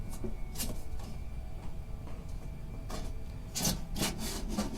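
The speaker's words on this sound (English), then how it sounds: "You get the picture by sliding the trim, the flange, the wall flange down." A metal wall flange trim slides along the body of an ASI 8154 specimen pass-through cabinet, giving faint rubbing scrapes and a few sharper knocks toward the end.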